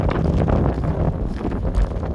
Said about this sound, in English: Yeah, still nasty out here, getting worse. That wind is actually pushing me now.